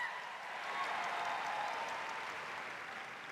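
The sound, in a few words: applause for speaker Mary Estupiñán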